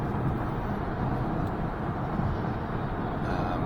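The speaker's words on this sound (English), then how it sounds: "Road noise, it's not too bad. It's a bit of wind noise." Steady road rumble and light wind noise inside a Kia Niro EV (MY23) cruising on the road, a dense, even broadband roar with no gaps, close and constant throughout.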